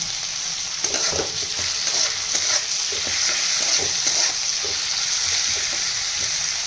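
Onions and tomatoes frying in oil with repeated scrapes of a spatula stirring them, all over a constant close sizzle.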